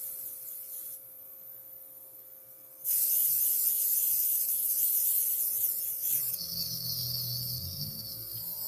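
A Luminess airbrush sprays until its reservoir runs empty: a steady airy hiss that suddenly grows louder and harsher partway through, shifting into a sputtering, rattly buzz near the end, close and alone.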